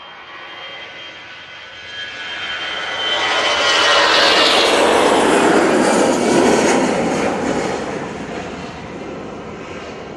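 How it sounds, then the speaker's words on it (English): An EasyJet Airbus A320ceo jet departs Manchester Airport, its engine roar swelling loud as it passes, then slowly fading into a distant rumble. "Off to Hamburg we go with this EasyJet"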